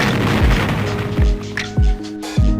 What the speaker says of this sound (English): First, I want to have a sound effect when I shoot.